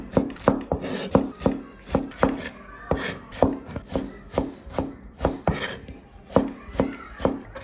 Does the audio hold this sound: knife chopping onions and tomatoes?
yes